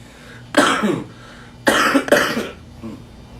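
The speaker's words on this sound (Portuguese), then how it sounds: "Desculpa a tosse, estou saindo de uma gripe." Three harsh coughs up close from someone recovering from flu: one single cough, then two more in quick succession, with no talking.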